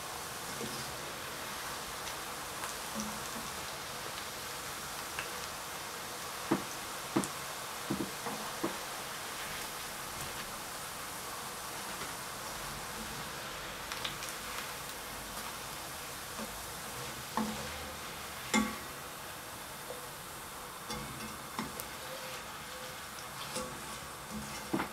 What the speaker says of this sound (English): Just want to fry these until they're golden brown.